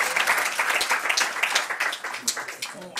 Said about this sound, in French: Non, mais tu t'en vas, bravo, on peut applaudir.